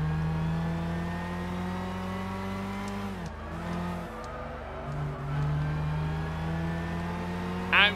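Super GT300 race cars in Gran Turismo 6 passing the Cusco Impreza: a steady droning engine note holds close, dips as the cars shift, then resumes, with a brief tire squeal near the end.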